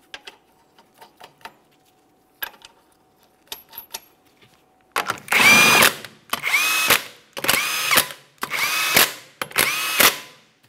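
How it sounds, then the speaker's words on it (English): A power tool spinning 21 mm lug nuts onto a Mitsubishi Lancer rear wheel: after a few light clicks and clinks, five loud, close whirring bursts of about a second each, evenly spaced. "We're going to start on all five of our 21 millimeter lug nuts, then we'll bottom them out."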